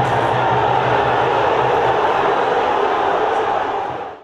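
Football supporters in a stadium roar in a loud, steady crowd wash throughout, a dense sustained din that fades slightly at the very end.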